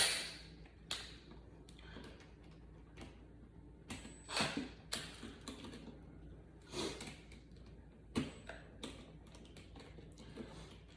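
A screwdriver tightening the terminal screw on an electrical outlet while a wire is landed, with sparse, sharp clicks and taps in small bursts separated by quiet gaps, close by.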